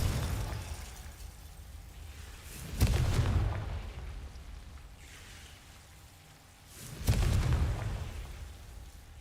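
Two heavy booming blasts from the Confringo fire spell in the Hogwarts Legacy video game, spaced a few seconds apart over a low rumbling background, each with a rolling, fading tail.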